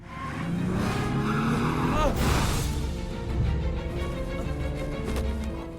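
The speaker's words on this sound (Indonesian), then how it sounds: "Tony memutar kembali mobilnya dan menabrak Wilson" Car engine revving and tires skidding as a car turns around and rams a man in an action movie scene, loud roaring with a sharp swell midway amid layered film sound.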